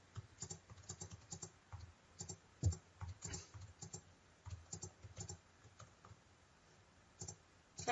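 Values being typed on a computer keyboard: rapid, irregular keystrokes and clicks, close and fairly quiet, continuing throughout with no talking.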